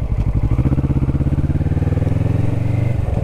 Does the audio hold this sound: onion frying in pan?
no